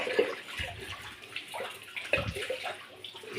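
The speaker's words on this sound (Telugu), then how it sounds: "నాకు పాత బియ్యం కాబట్టి ఇంకొన్ని నీళ్ళు యాడ్ చేసుకుంటున్నాను" Water splashes into a pot of vegetable biryani rice, poured in a couple of bursts with sloshing and gurgling, close and moderately loud, with no voice.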